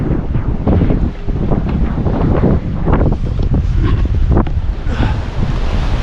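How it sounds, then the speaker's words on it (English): Strong gusty wind buffets the microphone on the North Jetty coast in Humboldt during an atmospheric river storm, a loud continuous roar with surf churning underneath. "Feels like the wind's picking up."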